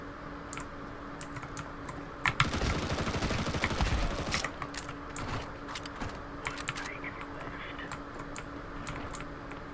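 A burst of MP7 submachine gun fire in Counter-Strike 2, a dense rapid rattle lasting about two seconds, surrounded by quieter sporadic clicks and taps.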